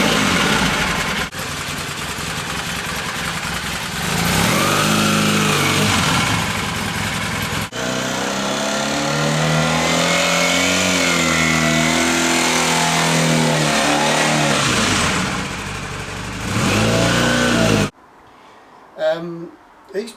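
Honda CB450SC Nighthawk 450 motorbike riding down a driveway: a steady close engine drone that rises and falls with throttle changes and gear shifts, then cuts off abruptly, leaving brief quiet sounds.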